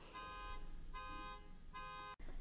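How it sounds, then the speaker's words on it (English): A car alarm sounds three times, each a sustained electronic tone burst about half a second long with short gaps between, moderately distant and steady, followed by a brief dropout. "Sorry about that car alarm going off"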